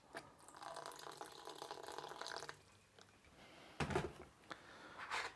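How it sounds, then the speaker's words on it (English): Hot water from a kettle poured into a pan of satay sauce in a home kitchen, a steady splashing stream for about two and a half seconds, followed by a few softer clatters and splashes nearby. "so I'm going to add a little bit more water from the kettle."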